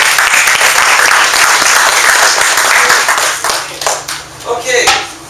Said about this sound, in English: Give a big round of applause to David Lai.